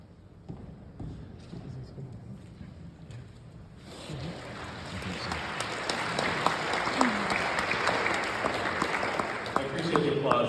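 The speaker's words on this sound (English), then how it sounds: "I appreciate the applause" Audience applause at an award ceremony, starting softly and swelling after a few seconds into broad, sustained clapping from a sizable crowd.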